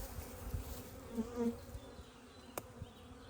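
Honeybees buzz steadily around beehive nucs in a low, faint, continuous drone, with a few soft handling knocks over it and no speech.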